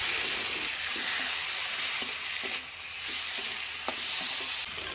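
Tomatoes fry in a pan with ground ginger and chilli paste for a Bengali fish curry, a steady loud sizzle with stirring scrapes and small clicks throughout, no talking.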